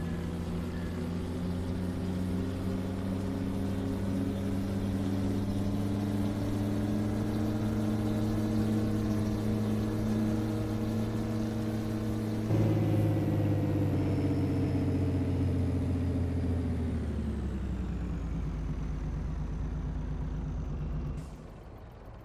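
Roadrunner truck engine in Farming Simulator 22 drives with a steady loud harmonic drone. It climbs in pitch, then winds down and fades out near the end.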